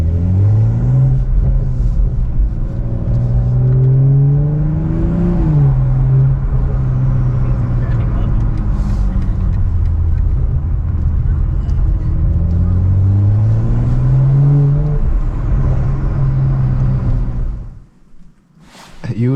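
BMW M340i engine revving in a series of rising and falling sweeps, loud and close, with a deep rumble throughout and a sudden cut near the end.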